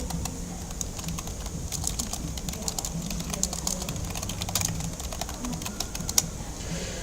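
Steady clatter of keystrokes on a computer keyboard while personal details are entered into a crypto and stock trading account sign-up form, the fast irregular taps continuing for several seconds over a low background hum.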